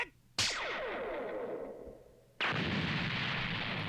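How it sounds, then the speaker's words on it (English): A smoke bomb goes off in a One Piece anime scene: a sharp burst with a long ringing, echoing decay, then a second loud blast that turns into a sustained hissing roar. "Is that a smoke bomb?"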